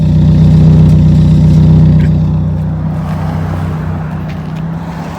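A vehicle engine idling with a deep, throaty rumble on a drive through Valley of Fire State Park in Nevada, loud and steady, easing slightly in level partway through, with no voices.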